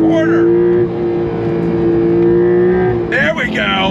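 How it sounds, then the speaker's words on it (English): A Porsche 911 Carrera T engine howls hard under acceleration, its flat-six drone holding steady and loud, then a burst of crackling exhaust pops and bangs near the end as the throttle eases. "Get some pop, some bangs out of the exhaust."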